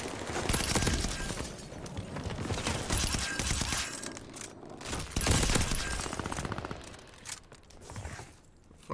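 Video-game gunfire in a shooter, fast bursts and rattling volleys repeating across the scene, loud and close, with no talk over it.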